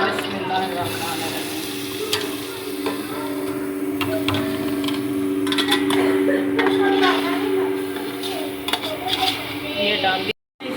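Ingredients go into a cooking pot with steady sizzling and frying. Metal utensils clink and scrape against the pot, and someone talks over the cooking.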